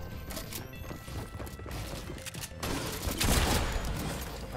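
Rapid gunfire bursts in the online shooter game Arena, a pistol among the weapons, crackling repeatedly and swelling louder toward the end with no talk over it.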